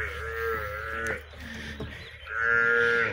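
A Nili-Ravi buffalo moos twice, two long, loud, close calls with a pause between them, set against a faint farmyard background.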